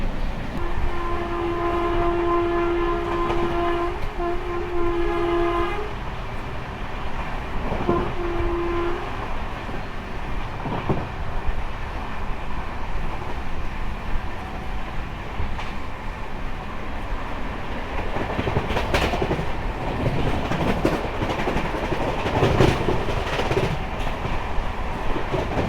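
Akal Takht Express rolling at speed on the Kolkata to Asansol run, a steady loud rumble of wheels on rails with two long horn blasts early on and a few sharp clatters later.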